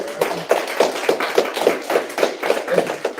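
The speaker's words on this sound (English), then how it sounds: "Everybody clap for these guys." A seminar audience applauds together in a steady, rhythmic burst of hand claps, the beats landing roughly every quarter second for a few seconds with no talking over it.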